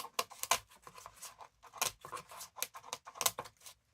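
Scissors cut through the paper pages of a vintage book, giving a series of quick, quiet snips and crisp scrapes close by.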